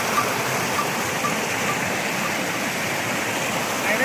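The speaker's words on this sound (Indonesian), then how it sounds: "Nggak jauh dari pos 1 kita ketemu sungai." A clear mountain river rushes steadily along the Mount Guntur trail near the first post, a dense, continuous broadband roar of flowing water heard close up with no talking.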